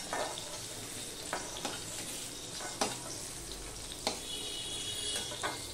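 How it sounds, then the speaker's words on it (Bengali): Pointed gourd frying in hot oil, a steady sizzle with intermittent sharp pops and spatters, close and moderately loud, with no voices. "দেখো বন্ধুরা পটলগুলো সব ভাজা হয়ে গেছে"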